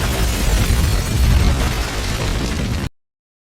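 A building rigged with explosives blows up in a film effect, a loud rumbling blast with crackling debris that roars for nearly three seconds before cutting off abruptly into silence.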